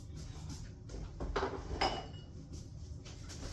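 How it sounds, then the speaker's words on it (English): A shepherd's pie dish goes into a preheated oven with faint clinks and a soft metallic clatter from the rack and dish, the sounds quiet and close. "Now we're going to take this and throw it into our oven."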